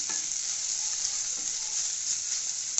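Cut onions sautéing in oil in a pan for a nithya brinjal (mookuthi kai) dish, a steady close sizzle with faint stirring, continuous and even throughout.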